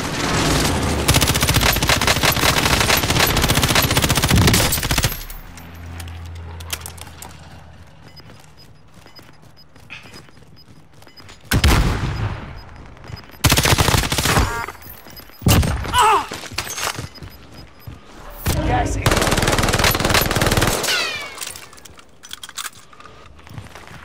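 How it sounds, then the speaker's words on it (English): Video game combat with an allied precision airstrike: loud bursts of gunfire and explosive impacts in several heavy clusters, separated by quieter stretches of low rumble and scattered shots. "Allied precision airstrike incoming"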